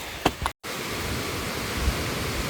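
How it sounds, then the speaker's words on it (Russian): A steady, dense roar of a waterfall fills the whole stretch in tropical Gokarna, India, with a couple of brief soft knocks near the start and a short dropout. "Слышны звуки водопада."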